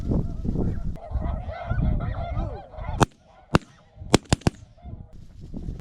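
A flock of snow geese honks and clamors loudly and continuously on a hunt, then falls quieter as five sharp, loud shotgun blasts ring out in quick succession.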